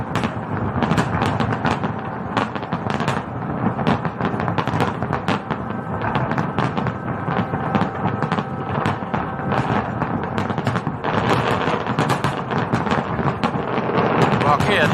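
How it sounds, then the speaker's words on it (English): More celebratory fireworks sound effect played during a live stock-market stream: a dense, continuous roar of crackling bursts and rumbling booms, loud and sustained throughout with no clear gaps. "Here's some more fireworks."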